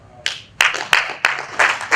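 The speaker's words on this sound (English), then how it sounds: "Are we clapping?" A few people clap at an event unveiling a mascot and jerseys for an African armwrestling championship in Abuja, with sparse, uneven claps building into brief bursts nearby.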